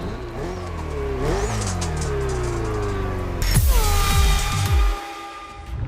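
A Ferrari racing car engine in The Crew Motorfest revs hard through rising and falling gear changes, loud and close, then surges with a fresh burst of acceleration before easing off.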